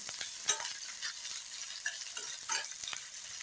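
Thinly sliced chopped onions frying in a pan for a masala oats dish, a soft steady sizzle with faint crackles and a few light stirring scrapes, close and quiet with no talking.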